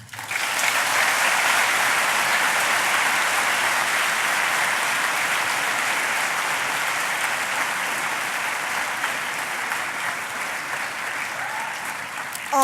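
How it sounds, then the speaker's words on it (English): Sustained applause from a large audience at a school graduation ceremony after a guest speaker's address, a dense, steady clapping roar lasting over twelve seconds that slowly thins slightly toward the end. "May we have another round of applause, please?"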